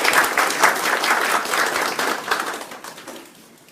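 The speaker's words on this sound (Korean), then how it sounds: "박수 한번 부탁드릴게요." An audience at a startup forum gives a round of applause, a close, lively patter of many hands clapping that tapers off after a few seconds.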